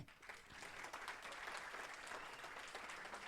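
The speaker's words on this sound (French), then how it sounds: "Merci, on peut l'applaudir." An audience in a lecture hall claps steadily for a few seconds, a dense even patter of many hands at moderate distance.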